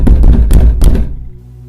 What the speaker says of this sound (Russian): Стук повторился.